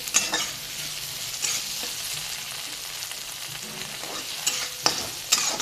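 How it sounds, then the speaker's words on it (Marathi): Masala with sesame seeds sizzles and fries in a pan for a spicy eggplant dish, a steady soft hiss broken by a few scraping stirs of a spoon against the pan. "त्याला आणखीन 2 मिनिटं हलवून घेऊया आपण"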